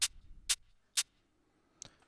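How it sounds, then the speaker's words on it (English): Noisy shaker layer of open hi-hats in an electronic music production, three crisp, evenly spaced hissy hits followed by a softer fourth, each short and bright over near silence. "This noisy shaker layer."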